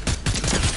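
A short, loud burst of rapid gunfire from the video game Fortnite, a dense fusillade of shots lasting under a second with no voices over it.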